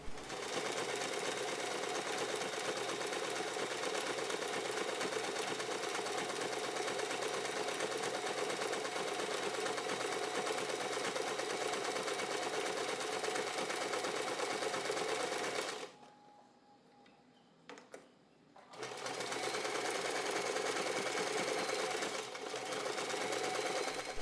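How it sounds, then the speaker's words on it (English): A sewing machine runs a zigzag stitch to attach fabric half-ovals onto a pouch, its rapid, steady mechanical whir holding for about fifteen seconds, pausing briefly, then resuming close and even. "I'm using a zigzag stitch for a bit of extra decoration."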